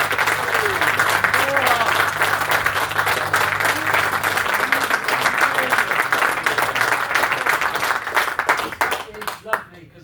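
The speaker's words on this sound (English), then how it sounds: "we give as much love, support, cheers and applause as we can possibly manage at this stage of the evening" A comedy-night audience in Newbury cheers and applauds loudly and continuously to welcome a comedian to the stage, a dense roar of clapping with whoops, thinning out in the last second.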